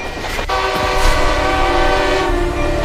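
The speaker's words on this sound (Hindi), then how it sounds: "अब ट्रेन करीब आ चुकी थी।" A train draws near on the tracks, its horn blaring as a long, steady multi-tone blast over a constant rumble of the rail traffic, loud and close for the whole stretch.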